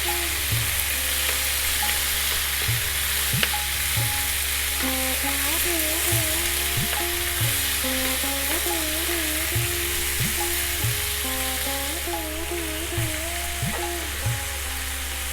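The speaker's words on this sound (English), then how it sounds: "on this high heat, we're going to go for about 4 minutes, just to seal and get the lamb a little head start" Lamb pieces searing in a pan over high heat give a loud, continuous sizzle, close by, with regular scraping and tapping from stirring and soft background music underneath.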